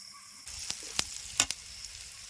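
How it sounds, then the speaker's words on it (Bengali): Chili paste frying in a pan gives a steady close sizzle, broken by a few sharp clicks and taps from stirring. "মরিচ পেস্টে হালকা ভাজা হয়ে গেছে"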